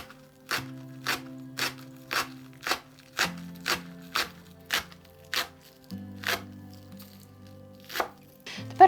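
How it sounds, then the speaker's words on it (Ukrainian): A knife chops green onion into fine rings on a board for chicken and egg fried rice: about fifteen crisp, close strikes in a loose, unhurried rhythm with short pauses, and no talking. "Зелену цибулю нарізаю дрібними кільцями."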